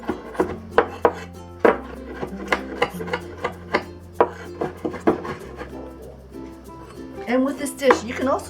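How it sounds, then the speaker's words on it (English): Knife strokes slicing mushrooms on a cutting board for steamed chicken wings with Chinese sausage and lily buds: a steady run of crisp, close chops under a low background hum, ending with a brief scraping shuffle. "and also slice the mushrooms"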